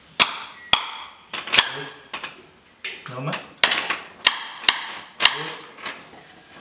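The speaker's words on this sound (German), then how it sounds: "Und da müsstest du jetzt wahrscheinlich mit dem Hammer ansetzen." A hammer taps a hoof protection boot into place on a horse's hoof, giving about a dozen sharp, close metallic knocks in an uneven rhythm. A person speaks briefly between the blows.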